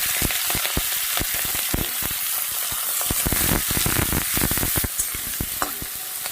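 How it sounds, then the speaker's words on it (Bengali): Prawns frying in hot oil for lau chingri, a steady loud sizzle with crackling pops and occasional stirring scrapes, close up and continuous with no talking. "তো চিংড়ি মাছটা এবার লবণ হলুদ দিয়ে ভেজে নেব"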